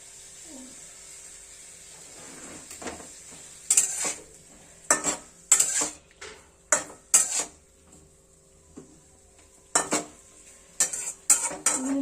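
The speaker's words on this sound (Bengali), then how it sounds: "লঙ্কাগুলো উপরে দিয়ে দেবো। এই যে সিজল করছে" Green chillies hiss in a hot pan during palak paneer cooking, a faint steady sizzle broken by sharp repeated clinks of a metal spoon stirring, with someone speaking now and then.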